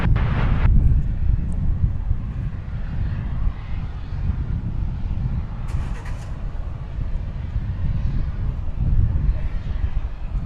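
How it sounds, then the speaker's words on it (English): An American Airlines Boeing 737-800 jet roars in a broad, steady rumble, heard at an airport with brief clicks and a short burst near the start, and no talk. "This is American Flight 341. It's a 737-800."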